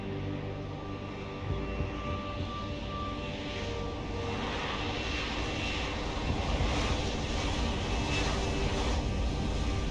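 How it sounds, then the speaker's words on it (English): In the video game Deus Ex, an aircraft lifts off with a heavy jet-engine roar, a dense, steady rumble that swells slightly in strength and stays loud and close throughout. "the noise that fucking thing makes when it gets off the ground absolutely sounds like you would expect a jet engine"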